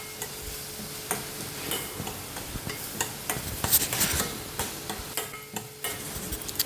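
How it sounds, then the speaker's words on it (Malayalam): A spoon stirs soya chunk masala curry in a pan, giving soft, repeated scrapes and taps over a faint sizzle. The stirring is close but quiet, with an uneven rhythm and no one speaking. "വീണ്ടും ഇളക്കാം."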